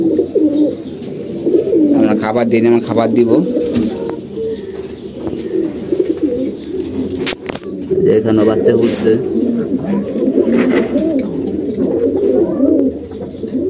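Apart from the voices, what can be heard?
pigeons cooing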